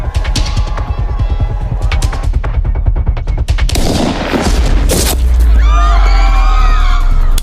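Rapid bursts of gunfire crackle loudly, followed by a heavy rumbling blast and shouting voices amid chaotic noise.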